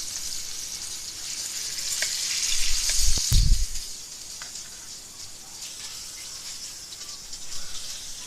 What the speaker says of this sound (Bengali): মাছগুলি উঠিয়ে আমি বাকি মাছগুলি ভেজে নিব।